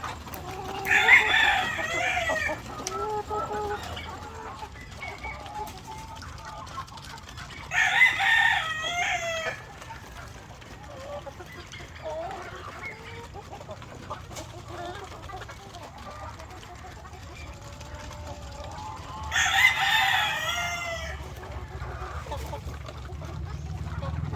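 Three loud rooster crows ring out at intervals, with hens clucking softly in between against a quiet farmyard background.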